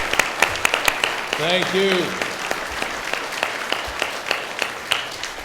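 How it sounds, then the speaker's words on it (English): At a neighborhood summit, an audience gives law enforcement a standing round of applause, scattered claps and hand hits continuing while a voice speaks briefly over them. "They deserve a standing round of applause"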